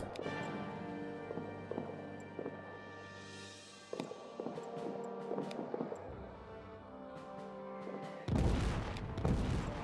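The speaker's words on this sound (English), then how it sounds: "we got some bullets pinging my way" Sporadic gunfire and bullets pinging in the World War I trench game All Quiet in the Trenches, scattered sharp cracks over a steady game music bed, swelling into a louder burst of noisy fire near the end.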